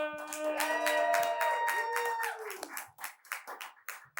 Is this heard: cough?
no